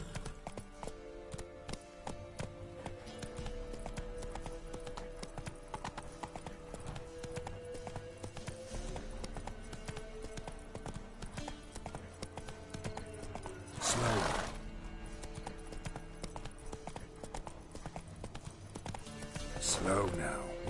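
A horse gallops in The Witcher 3 with fast, steady clip-clop hoofbeats throughout, game music beneath, and loud neighs rising twice.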